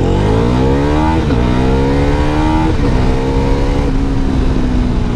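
A 400cc sports tourer motorcycle launching with traction control off, engine revving hard and climbing through gears with brief shift dips, loud and close throughout.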